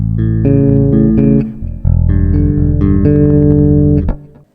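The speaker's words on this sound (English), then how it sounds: "I'm using the thumb, the index and the middle, using free strokes rather than rest strokes" A bass guitar plays a short line of distinct low notes, fingerpicked with thumb, index and middle using free strokes, clear and close, then rings out and fades.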